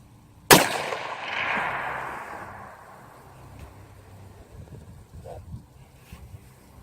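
A single 224 Valkyrie rifle shot firing a 95 grain Sierra MatchKing load, one sharp loud crack followed by a long outdoor echo that fades over several seconds amid light wind.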